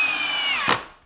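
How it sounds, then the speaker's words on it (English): A power drill whirs as it drives a 3-inch screw through a wooden tabletop into the legs. The motor whine is steady and close, then a brief thunk sounds as the screw seats, and the noise winds down. "I'm gonna use 3-inch screws, Ashley."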